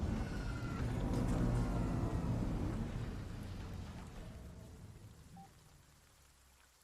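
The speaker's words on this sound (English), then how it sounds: "Oh no, the acid rain," An acid rain storm in the Surviving Mars video game brings a steady hiss of rainfall with a low thunder-like rumble, loud at first and then slowly fading toward quiet.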